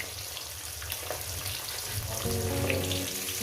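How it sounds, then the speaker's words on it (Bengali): Pieces of Bhola fish fry in hot oil in a pan, a constant crackling sizzle that grows a little louder and fuller partway through. "বাদ বাকি মাছগুলো আর এগুলো ভেজে নিয়ে ফিরছি"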